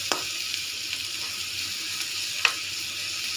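Beef fries in a pan with a constant bright sizzle, broken by a few sharp clicks of stirring, close and moderately loud with no talking.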